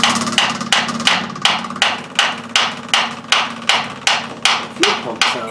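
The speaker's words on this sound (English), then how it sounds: "So I'll hit it right on top of that nut there." Hammer blows strike the top of a nut on the fuel system of a 1971 Ford Ranchero, about a dozen sharp metallic hits at a steady, even rhythm, close and loud over a constant background hum.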